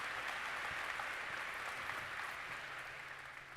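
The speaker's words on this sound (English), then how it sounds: "y'all give them a round of applause" An audience at a school district back-to-school kickoff gives a round of applause, dense and continuous clapping that stays fairly even before gradually fading toward the end.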